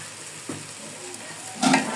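Rice frying with ginger paste and salt in a pan, a low steady sizzle with a couple of stirring scrapes, quiet and close, rising briefly at the end.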